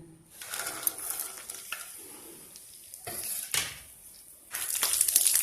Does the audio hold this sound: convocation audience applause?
no